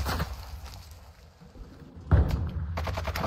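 Gunfire in a shooter video game, a few muffled shots and thuds with a louder burst near the end over steady game ambience.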